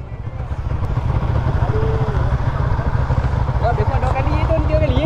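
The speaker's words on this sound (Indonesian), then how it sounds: "Motor masih hidup." A motorcycle engine runs steadily close by, a low rumbling throb under people talking.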